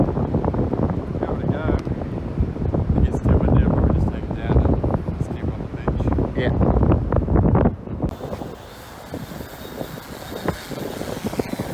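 Strong wind buffets the microphone at sea during a drone fishing outing, a dense, loud roar over the first eight seconds that then drops to a thinner, steadier rush, with people talking through it.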